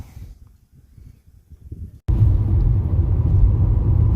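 Car interior on a solo road trip: after a quiet stretch, a loud steady low road rumble with wind noise suddenly starts and continues without a break, with no talk.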